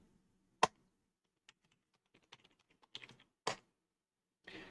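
Computer keyboard typing, a sparse run of quiet, close key clicks in irregular bursts with near silence between them.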